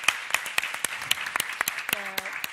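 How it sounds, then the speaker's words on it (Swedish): An audience at a talk on activities for gifted youth claps warmly, the individual claps sharp and distinct rather than a dense wash, with a brief tonal sound near the end. "skulle jag vilja ge en varm applåd till Viktor och Anna"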